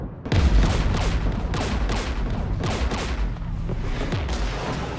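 Sustained gunfire and heavy weapon blasts during a battle near a jamming tower on Rannoch in Mass Effect 3, dense and continuous with repeated booming impacts over five seconds, no voices.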